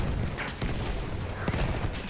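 Machine gun fire in the Battlefield 1 video game, dense rapid bursts and distant booms crackling continuously in a chaotic trench battle.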